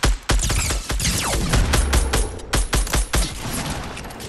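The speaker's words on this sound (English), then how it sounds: "You have a shotgun?" Rapid shotgun blasts in Fortnite: a dense string of sharp, loud, close reports in quick succession, some clustered and some spaced, continuing throughout.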